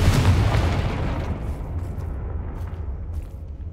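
A loud, deep booming explosion from the Confringo fire spell in the game Hogwarts Legacy, with a heavy low-end burst at the start and a long rumbling decay.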